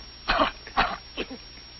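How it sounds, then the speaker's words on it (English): Three short, rough coughs in a row, close and fairly loud, with brief pauses between them and no talking. "Cough."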